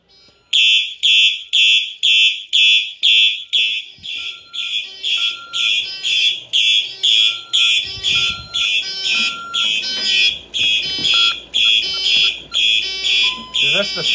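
A smoke alarm beeps in a steady, rapid pulsing pattern, loud and close, continuing throughout with faint background sounds and brief voices underneath.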